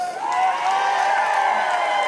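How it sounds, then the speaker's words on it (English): A rally crowd at the March for Our Lives in Atlanta cheers and applauds continuously, with whoops and sustained voices over the clapping, loud and close. "I want to give Jordan another round of applause."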